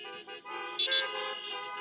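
Car horns honked by an audience at an outdoor gathering blare in a thick, overlapping sustained chorus, with one brief sharper toot rising above the rest.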